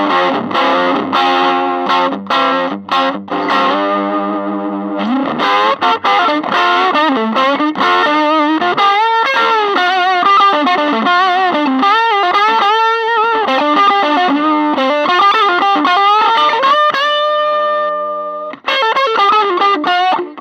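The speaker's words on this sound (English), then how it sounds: "distortion" An electric guitar is played loud through a modified Pignose 7-100 amp with distortion, mixing chords and sustained melodic notes with bends in a continuous, gritty passage of about twenty seconds.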